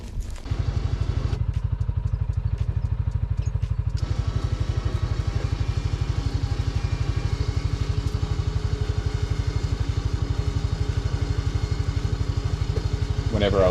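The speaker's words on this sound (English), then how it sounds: "I've been able to use the winch on the UFORCE 600" A CFMoto UFORCE 600 UTV runs steadily at close range, a loud rhythmic engine chug while its winch pulls out lantana, with a brief higher whine near the start.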